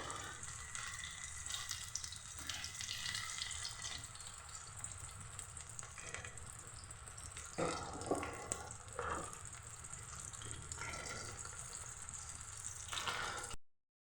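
Ivy gourd pakodi frying in hot oil, a steady loud sizzle and bubbling hiss that runs throughout with a few brief crackling flare-ups midway, no voice present.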